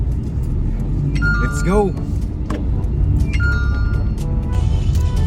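A noisy delivery vehicle engine rumbles steadily while driving in heavy traffic, with a brief jangle of keys and a short spoken exclamation over it.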